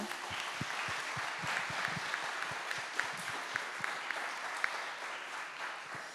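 Steady applause from an audience at a French-language weather enthusiasts' meetup, with a few sharper individual claps standing out near the front, continuing throughout without any speech.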